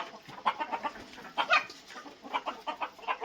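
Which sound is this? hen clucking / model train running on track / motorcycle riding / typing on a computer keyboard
hen clucking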